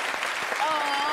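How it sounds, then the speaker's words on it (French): An audience claps in a steady patter of applause during a French television tribute, close and continuous, with a presenter's voice talking over it. "On l'applaudit Stéphanelle"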